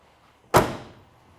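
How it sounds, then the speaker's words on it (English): A single solid door slam on a 1972 Chevrolet Chevelle, one sharp close-range thunk with a brief fading tail, alone without any talk. "Door closes well here."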